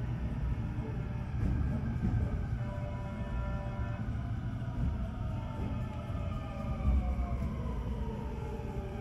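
A JR West 521 series passenger train on the Ainokaze Liner rolls along steadily past Nishi-Nyuzen station, a continuous low rumble with rising and falling tonal whine from the motors, close and sustained throughout.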